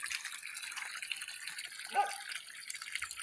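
Water from a solar-powered pump, run off a tricycle battery, pours steadily from a faucet in a hiss-like stream, with a brief splash or drip near the middle and no talking.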